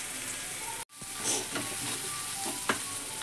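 Seasoning for a chickpea snack sizzles steadily in a pan over a low flame. A brief clatter interrupts the soft frying hiss early on, and a few faint stirring scrapes follow.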